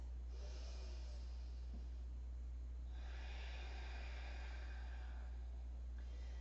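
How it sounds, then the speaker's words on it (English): Slow, deep breaths during a gratitude practice with Ujjayi-style breathing, two long airy inhale-exhale swells, close and faint over a low steady hum, with no talking. "Let's take another couple of breaths."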